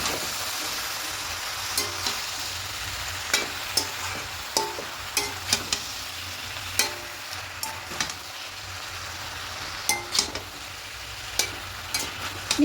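Spinach and a hilsa fish head are stirred in a pan with a spatula, giving a steady soft sizzle broken by repeated scraping clicks at an irregular rhythm, close and alone with no talk.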